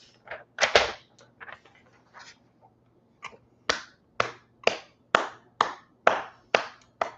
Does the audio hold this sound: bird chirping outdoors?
no